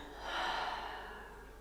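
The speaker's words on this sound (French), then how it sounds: "Expirez par la bouche." A single long exhale through the mouth during yoga breathing, a soft breathy rush that swells quickly, then slowly fades over about a second and a half, close and fairly quiet with no talk over it.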